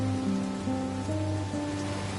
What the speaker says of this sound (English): It must rain here quite frequently, I guess.